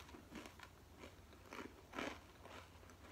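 Quiet crunchy bites into a folded blue corn tortilla chip, a few crackling crunches spread out with chewing in between, close to the mic and with no talking.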